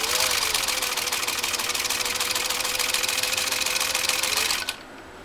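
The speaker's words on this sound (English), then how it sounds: "I want to race back with this machine" A Singer 15-125 sewing machine stitches through heavy 14 oz leather in a fast, steady run of close, even needle strokes with a motor drone, loud and alone, before stopping abruptly near the end.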